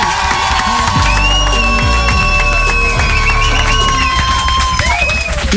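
Radio studio audience cheering and applauding for a singer after she sings a song with a six-year-old child, a loud continuous crowd roar with whoops and high excited voices.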